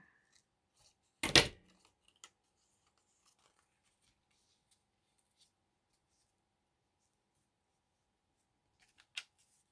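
Scissors snip paper for a junk journal collage page in one quick, close crunchy cut, followed by faint small rustles and another brief snip near the end in an otherwise quiet room.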